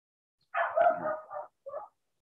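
Puppy barking nearby: a drawn-out yelping bark followed by a short second yip, clear and alone against silence.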